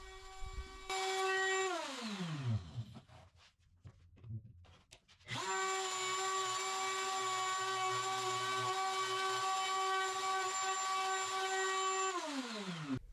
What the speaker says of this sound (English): for the bigger areas I used my router jig